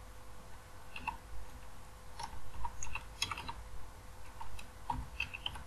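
Someone types a short search query on a computer keyboard, quiet irregular clicks of keys close by in a hushed room, in brief bursts with pauses.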